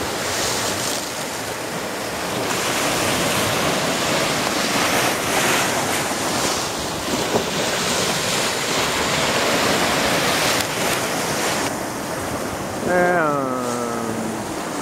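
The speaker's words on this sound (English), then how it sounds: "I hope you enjoyed your trip to the beach here in Hawaii." Ocean waves break on a beach in Hawaii in a steady, rolling roar with wind buffeting the microphone. A short voiced sound rises over the surf near the end.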